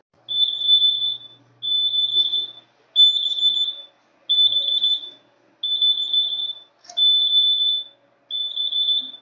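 A brewing timer alarm sounds at the end of a beer brew as a loud, high electronic beep repeated seven times in an even rhythm, each tone about a second long with short gaps, and no one talking.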